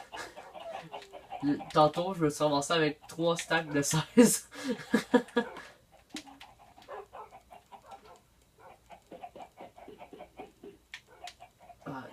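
Minecraft chickens cluck now and then while someone talks steadily over them, the clucking faint and scattered.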